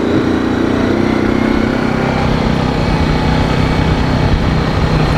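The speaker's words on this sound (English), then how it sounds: "Take you for a ride on my big green tractor" Engine of a big green tractor running steadily during a ride, a loud, continuous low drone with a constant mechanical hum throughout and no talking.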